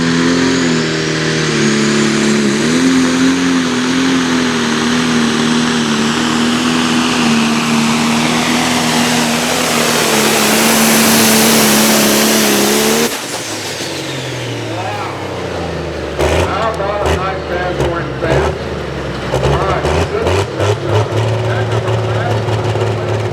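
The Nutcase pulling tractor roars at full throttle at the Boonsboro tractor pull, a loud sustained engine whose pitch climbs and holds before cutting off abruptly, followed by crowd noise and an announcer talking.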